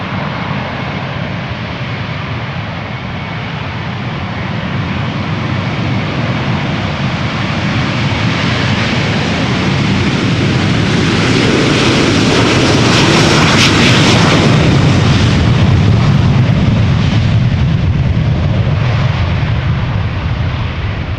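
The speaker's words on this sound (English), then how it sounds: "Next up, 2 consecutive Delta A330s." A Delta Airlines Airbus A330 takes off at Amsterdam Schiphol Airport, its engines a loud, close, continuous jet roar that swells to a peak midway as it passes, then holds steady with rumbling texture.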